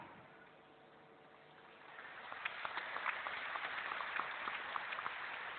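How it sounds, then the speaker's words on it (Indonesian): A congregation applauds during an Easter sermon in an Indonesian church, the clapping swelling from quiet into a steady, fairly faint patter of many hands that continues to the end. "Oh saya senang semua tepuk tangan."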